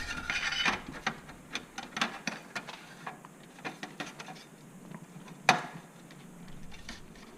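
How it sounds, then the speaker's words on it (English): A Dell W80XH drive cage is pushed into a 5.25-inch bay of a Dell Precision T7910 workstation, giving a series of close scraping, clicking metal-and-plastic knocks with some resistance, ending in one sharper thud near the end. "there's a little bit of resistance in getting this drive cage fully seated in"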